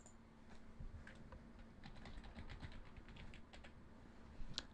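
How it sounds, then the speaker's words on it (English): Password keys tapped on a computer keyboard, a quick uneven run of light clicks at close range with no talk over them, ending in a slightly louder final keystroke. "I'm just going to type in my password now."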